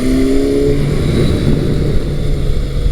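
A Kawasaki Versys 1000 motorcycle engine and exhaust roll on and off the throttle on twisty roads, loud and close with a steady growl that rises and falls in pitch.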